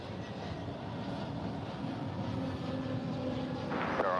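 An Airbus A321neo airliner passes at DFW airport as a steady, fairly faint jet rumble, with a brief brighter whine near the end.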